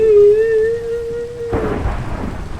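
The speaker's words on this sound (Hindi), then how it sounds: "बादल तो गंदा ही गरज रहे हैं।" Thunder rumbles and rain patters in a survival video game, starting as a steady tone with a low roll before a burst of broadband rain and thunder noise takes over the last second, loud and close with no voices.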